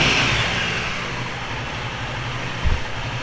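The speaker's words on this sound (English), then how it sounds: "that's how the bike sounds." A motorcycle engine fitted with DIY sound dampening runs steadily with a low rumbling idle, close and even, with one brief thump near the end.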